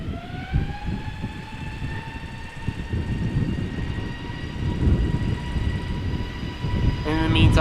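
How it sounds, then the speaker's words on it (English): Airbus A320 jet engines spool up at Amsterdam Schiphol Airport with a rising tonal whine over rumbling roar that builds steadily louder, with a voice talking intermittently. "In the meantime, the A320 to Reykjavik, spooling up."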